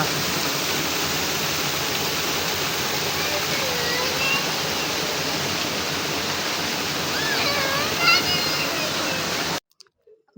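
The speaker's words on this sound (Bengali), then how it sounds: "এরকম প্রাকৃতিক ঝর্ণা দেখতে আসলে খুব ভালো লাগে" A natural hillside waterfall at Himchori roars as a dense, continuous rush of falling water, loud and close, before the sound cuts off near the end.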